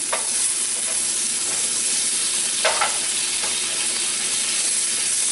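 Steady frying sizzle of carrots tossed in a melting honey glaze in a pan, with a few soft stirring scrapes and light clatters over the hiss.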